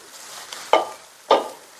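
Grated coconut and curry leaves fry in a pan for veppilakatti, a soft sizzle broken by two distinct, close scrapes of a spoon stirring through the mixture.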